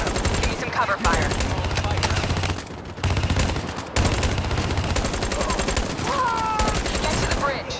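Sustained gunfire in a Call of Duty Black Ops 3 battle, dense automatic bursts almost without a break, with a brief lull near the middle and game voices and effects mixed in underneath.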